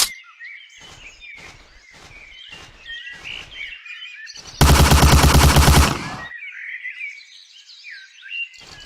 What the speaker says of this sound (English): We can also shoot machine guns while running